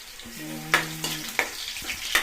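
Garlic drops into hot oil in a pan and fries with a close, steady sizzle, broken by a few sharp utensil clinks and a brief tonal hum near the start.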